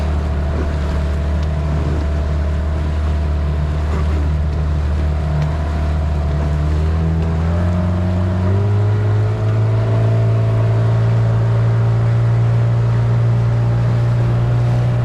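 An outboard-powered Miarco 365 inflatable travel catamaran motoring through swell, a loud, close, continuous engine drone with wind and water rush, its pitch climbing about halfway through as the throttle opens.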